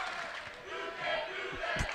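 Cheerleaders chant and shout from a crowded gym during a high school basketball game between Grayson County and Hancock County, a steady mid-distance roar with a sharp yell near the end.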